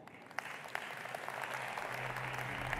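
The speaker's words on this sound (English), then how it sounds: "So will you welcome and join me in applauding Minister of Tourism for Saudi Arabia, His Excellency Ahmed Al-Khatib." An audience at a tourism event applauds a Saudi Arabian tourism minister, steady clapping filling the room at a moderate distance with scattered sharper claps and no speech.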